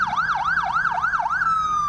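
A Nicaraguan Ministry of Health and Red Cross ambulance siren wails loud and close, rising and falling in a steady rapid cycle before settling into a flat, sustained tone.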